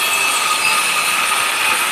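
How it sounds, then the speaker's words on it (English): Someone sawing outdoors gives a steady, continuous rasping hiss that holds at an even level for the whole stretch, with no voices. "Someone's sawing."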